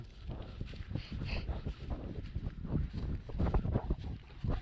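Gusty wind buffets the microphone steadily on a horse trail ride, a rough broadband rumble rising and falling with no voices in it.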